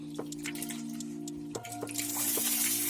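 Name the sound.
rinsing red lentils in water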